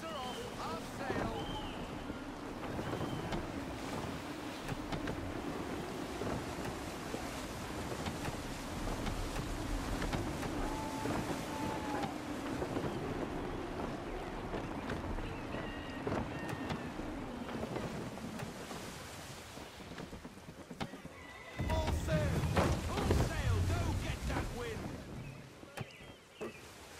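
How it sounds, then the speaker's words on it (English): Gusty wind rushes over a sailing ship in the game Assassin's Creed III, with a steady roar of wind and water that swells louder near the end, while voices speak over it. "Wind looks to be shifting. Stay alert, Connor. Gusty winds can be difficult to manage."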